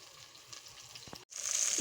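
Broad beans tossed into hot masala in a pan over a wood-fired clay stove, giving a steady low sizzle, a brief stir, then a louder, brighter frying hiss as the beans hit the oil.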